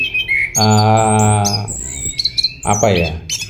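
Orange-headed thrush calling, a loud close harsh squawking call followed by shorter chattering and chirping notes, no talk.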